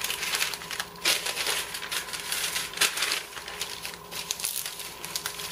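Folding cut sheets of parchment paper by hand, close and fairly loud, a continuous crinkling and crumpling rustle with sharper crackles at intervals and no talking.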